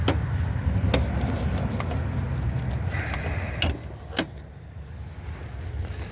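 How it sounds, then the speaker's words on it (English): A Ford Fusion (2013–2020) hood release lever is pushed and the hood lifted outdoors: a few sharp mechanical clicks and a thunk stand out over steady low wind-like rumble. "So that yellow lever you're going to push and lift."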